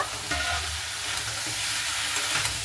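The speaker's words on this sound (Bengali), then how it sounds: "আলু আর ফুলকপিটাকে দিয়ে খুব ভালো মতো করে একটু নাড়াচাড়া করে নেব।" Potato and cauliflower pieces tossed and stirred in a frying pan, a dense close sizzle with thumping spatula strokes and scrapes at an irregular pace.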